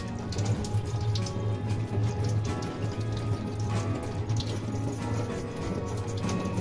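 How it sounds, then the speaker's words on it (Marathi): Cleaned, peeled dried mackerel (bangda) is rinsed under a running kitchen tap, a steady close splashing stream of water hitting the fish and sink that continues without pause. "आता हे पण असं स्वच्छ धुवून घ्यायचं।"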